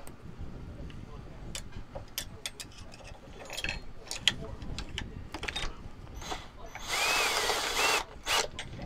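Rotary tool with a small burr grinding a pendant, short high whirring bursts in an intermittent pattern ending in a longer sustained whine, with quiet background noise and some talking.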